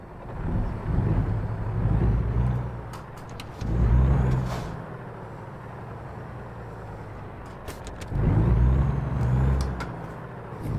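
A newly bought truck's engine in the American Truck Simulator game rumbles low and steady, swelling louder in several heavier surges as it pulls away, with no talk.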